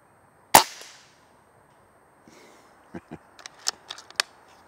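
A gun fires a full magazine, opening with one sharp loud crack followed by a series of fainter, quicker pops and clicks a few seconds later.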